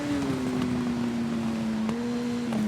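Motorcycle engine in TT Isle of Man racing game easing into a hairpin under engine braking, a steady droning tone that slowly drops in pitch with a brief blip near the end, loud and continuous with wind rush.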